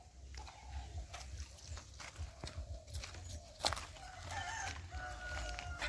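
Chickens cluck and a rooster calls at a distance on a rooster farm, with scattered clicks and light shuffling in a quiet yard.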